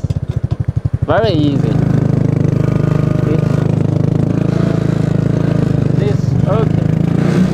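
A single-seat go kart with a 250cc water-cooled engine and automatic clutch runs close by, a fast pulsing idle that rises into revving sweeps as it shifts between forward and reverse, with someone talking over it.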